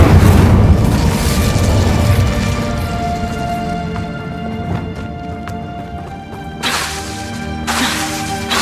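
Incendio fire spell cast in a Harry Potter video game, a loud whooshing burst of flame at the start that fades into crackling, followed by a couple of sharp whip-like bursts later on.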